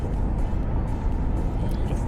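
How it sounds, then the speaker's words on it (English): Steady low engine rumble of a coach being driven in Fernbus Coach Simulator, a continuous heavy drone that resembles a train running along, constant and fairly loud throughout. "Why does it make the bus sound like a train when you're driving?"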